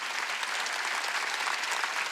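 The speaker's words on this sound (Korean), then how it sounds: "박수 치라" A church congregation at a Korean Wednesday worship service breaks into sustained, dense applause, an even wash of clapping with no pauses or talk.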